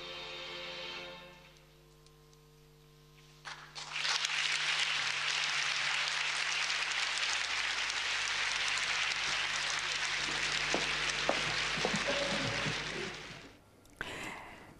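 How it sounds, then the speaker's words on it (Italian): A studio audience in Padua applauds in solidarity on an Italian television program; after a few quiet seconds, sustained, even clapping swells in and holds for roughly ten seconds before fading out. "L'applauso di solidarietà del pubblico padovano possa arrivare lontano fino ad Ingrid."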